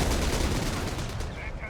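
Dense, continuous gunfire from a Company of Heroes 3 battle between British and German forces, a steady roar of rapid shots and impacts with no pauses, loud throughout and easing slightly at the end.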